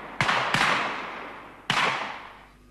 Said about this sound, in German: Schüsse knallten aus verschiedenen Stellen der Wand.